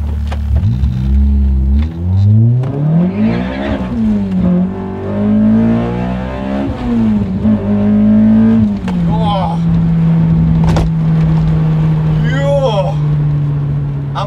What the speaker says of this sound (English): Dude, this car feels stunning to drive.